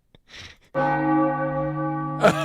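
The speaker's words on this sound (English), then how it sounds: "Ring the bell." A single bell struck once as a sound effect on a sports talk radio show, ringing loud and clear with a long sustained tone, preceded by a brief soft noise and followed by a voice starting to speak.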